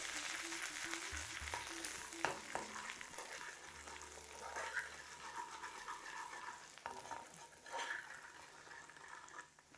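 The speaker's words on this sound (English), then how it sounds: "the mixed powder, the chili powder, the tandoori masala and the garam masala. Let's fry those out." Chili powder, tandoori masala and garam masala fry in hot oil for a Madras curry, giving a continuous close, soft sizzle with occasional stirring scrapes and knocks, no voices.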